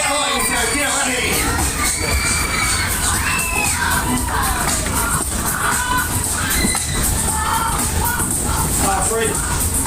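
Riders on a waltzer fairground ride scream and cheer together in a dense, continuous wall of shrieks, loud and close, over the ride's rumble and music.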